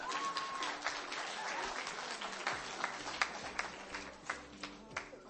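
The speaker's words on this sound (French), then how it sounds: "Vous pouvez m'applaudir, merci." Audience at a Perpignan science competition event applauding, a burst of dense clapping that thins out into scattered individual claps toward the end, heard from within the room.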